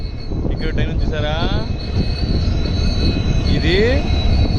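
A Madurai–Rameswaram passenger train at Mandapam station rumbles loudly and close by, its wheels squealing on the rails in a couple of rising metallic whines over the steady roar of the carriages.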